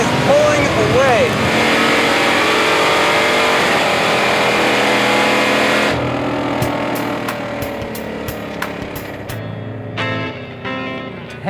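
A 1968 Dodge Charger fitted with a 707-horsepower Hellcat engine pulls hard and keeps accelerating, its loud, sustained engine roar rising in pitch with tones climbing through gear changes, while people talk over it.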